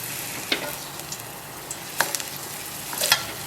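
Garlic frying in olive oil in a pan for clam spaghetti gives a steady low sizzle, with a few sharper scrapes or pops from stirring and mashing, close up and without speech.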